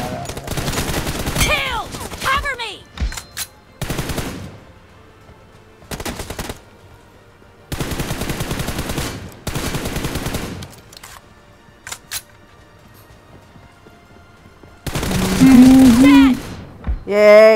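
Sniper rifle fire from an M24 in a mobile shooter's team deathmatch, heard as several loud sharp bursts spaced across the stretch, with excited voices and game sounds in between.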